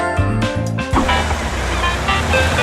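Taxi car driving in the Taxi Chaos 2 video game: a steady engine drone with road noise, revving up near the start, then holding a continuous rumble close by with light tonal layers over it.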